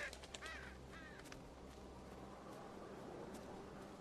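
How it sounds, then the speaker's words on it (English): Crows cawing in The Walking Dead: Season Two video game, several harsh calls in quick succession at the start, then a low ambient background. "Fucking those pesky birds."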